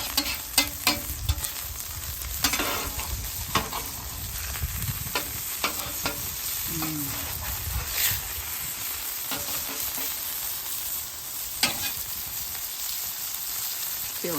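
Butter foams and sizzles in a hot pan while being spooned over a lobster and steak burger, a steady close frying hiss dotted with sharp spattering crackles and pops, no voices.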